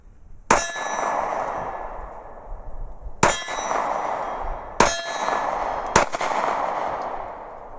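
SCCY CPX-2 pistol fired at a shooting range, four loud sharp shots at irregular intervals, each followed by a ringing metallic echo that decays slowly, with no talking.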